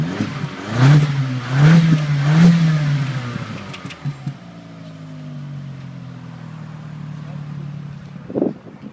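A Vauxhall Corsa OPC's exhaust blips through three quick revs near the rear, then a longer rev slowly falls away to idle, with a brief final blip and some background voices.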